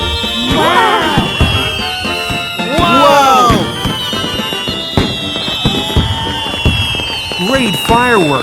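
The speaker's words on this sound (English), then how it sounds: "Wow, what fireworks!" Cartoon fireworks burst and crackle loudly in rapid succession, with whistling rising rockets and sparkling pops layered over a steady high tone, while cheerful voices exclaim between the explosions.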